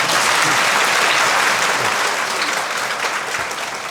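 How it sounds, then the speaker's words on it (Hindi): An audience claps together for a speaker at an interview event, with loud, dense, steady applause that fades slightly toward the end. "इसके लिए एक ताली और बजा दीजिए।"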